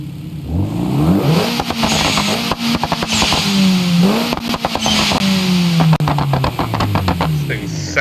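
A Skoda Kodiaq's engine in the BeamNG driving game, in drag configuration, revs hard and loud, its pitch climbing and dropping through rapid gear shifts, with sharp crackles and pops throughout.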